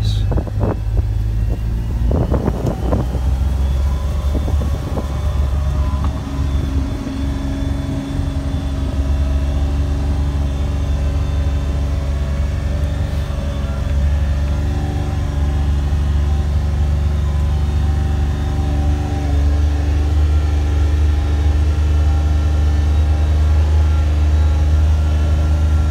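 A Kawasaki Mule Pro FX utility vehicle with a CVT transmission drives along, its steady engine drone and low rumble continuous and loud throughout, with faint rattles and wind noise early on.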